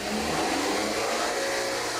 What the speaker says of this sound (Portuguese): A gente acelera e desliga o carro